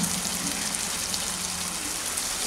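Vegetables cooking with soya sauce in a pan hiss and sizzle loudly and steadily as a little water is added, a dense, close, unbroken rush of sound with no talking.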